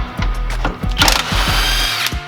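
A power tool works on 18 mm bolts during a truck suspension install, giving short, loud, repeated mechanical bursts with a rattling, impact-like pulse, close by in the work area.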